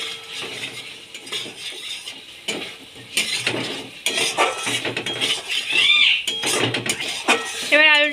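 Fried potatoes are stirred into a spice masala in a pot, with repeated metallic clinks and scrapes close by, a soft sizzle underneath, and brief chirping and background noise toward the end.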